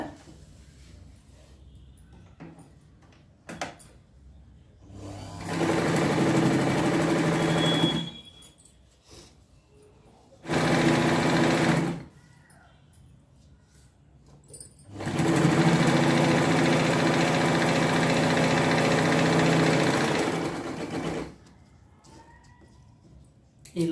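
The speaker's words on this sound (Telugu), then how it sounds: "ఒక కుట్టు కుట్టేసుకోవాలి ఇక్కడ" A sewing machine stitches the hem of a patiala pant. It runs in three loud, even bursts, the last one longest, with quiet handling noises in the gaps between them.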